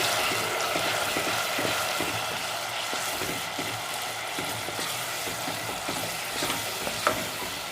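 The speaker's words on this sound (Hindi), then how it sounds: "ये देखिए नाज़रीन, हमारा ऑयल गरम हो गया है। अब हम इसमें अपना प्याज डालेंगे।" Onions fry in hot oil with a loud, dense, steady sizzle that crackles throughout, and a few faint utensil scrapes come through near the end.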